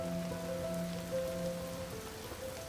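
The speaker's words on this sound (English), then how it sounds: "The rains have come." Rain falls outdoors over an open landscape painting contest, a faint, even patter heard alone with a soft sustained tone running beneath it.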